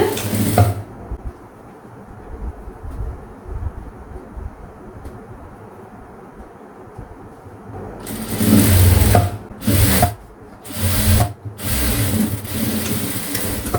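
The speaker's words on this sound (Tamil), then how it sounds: "இப்போ நான் தையல் போடுறேன் பாருங்கள்." A sewing machine stitches a blouse, a steady low mechanical whir running for several seconds, then louder bursts of stitching broken by short pauses.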